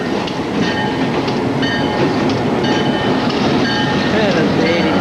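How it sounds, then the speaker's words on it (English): A switcher locomotive rolls past nearby in Ingersoll, Ontario, a loud continuous rumble with rhythmic clickety-clack from the wheels and brief metallic squeals, and someone talks faintly underneath. "And we got another switcher coming by."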